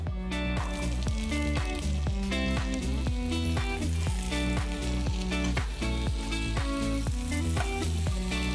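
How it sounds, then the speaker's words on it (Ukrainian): Continuous loud sizzling and crackling of chickpeas with spices frying in hot oil in a pan over high heat, with dense popping throughout. "Нут треба кидати на розігріту сковорідку і тримати його на високій температурі."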